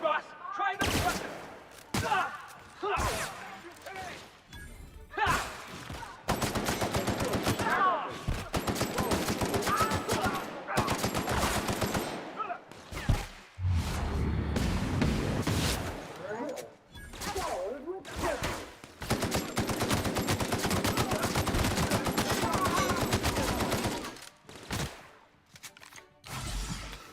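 Weapon fire in the video game The Outer Worlds: dense, loud bursts of rapid shots and heavy blasts keep coming through the combat, with a speaking voice mixed in under the gunfire at times.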